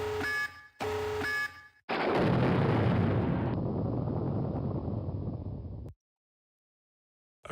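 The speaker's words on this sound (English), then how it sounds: "Tactical nuke incoming!" A video game's tactical nuke goes off after two short alert beeps, a loud close roaring blast that rumbles for several seconds, thins out and then cuts to silence.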